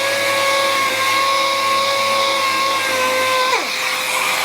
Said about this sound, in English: The 4x2 pieces got a quick sand using 120 grit.